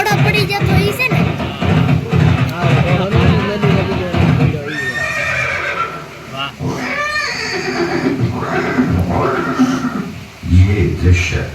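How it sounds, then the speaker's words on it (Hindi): Horse whinnying and neighing amid loud crowd noise and cheering in a Maharana Prana Pratap and Chetak historical scene, with repeated whinnies rising over a steady babble of voices and music. "ये दृश्य महाराणा प्रताप और सुविख्यात स्वामी भक्त घोड़े चेतक के अंतिम मिलन का है।"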